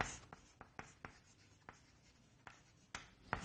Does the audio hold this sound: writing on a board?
yes